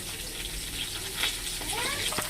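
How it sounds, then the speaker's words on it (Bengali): Potato pieces frying in hot oil with salt and turmeric, a soft steady sizzle with light crackles and a few stirring scrapes, close and fairly quiet. "আলুটা আমাদের মোটামুটি ভাজা হয়ে গেছে। দিয়ে দিলাম একটু নুন, দিয়ে দিলাম একটু হলুদ। এটাকে আমরা ভেজে নেব।"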